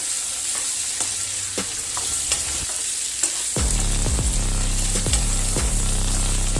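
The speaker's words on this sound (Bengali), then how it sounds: "এবার আলুগুলো একটু লাল করে ভেজে নেব" Potatoes frying in oil in a pan, a continuous close sizzle with scattered scraping taps of stirring, then a louder burst of rhythmic stirring and scraping partway through, no talk.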